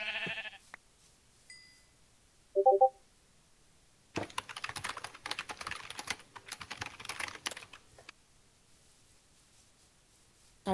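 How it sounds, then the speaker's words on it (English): Rapid clattering keystrokes on a loud computer keyboard during a gaming session, a burst of quick typing lasting several seconds after quieter moments with a brief tonal blip and a short electronic sound. "Sorry for my very loud keyboard."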